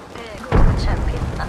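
A fragmentation grenade detonates in a first-person shooter, a single heavy low boom about a third of the way in that rumbles on under game noise and a talking voice.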